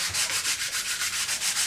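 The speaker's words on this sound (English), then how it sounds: "just rock it back and forth while you're sanding" Rolled sandpaper rubs back and forth across the barrel-channel ribs of a Remington 597 rifle stock, a steady rhythmic scratchy swish of about ten even strokes, close and alone with no talking.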